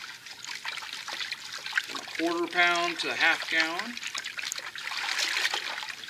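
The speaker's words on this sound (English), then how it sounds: "This is warm water here." Warm water pours steadily into a container of salt for a hide-tanning brine, a continuous trickling wash running under a man's nearby speech.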